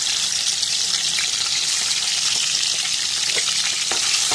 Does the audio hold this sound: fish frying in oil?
yes